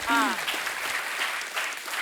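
An audience claps steadily for about two seconds. A voice is briefly heard at the start.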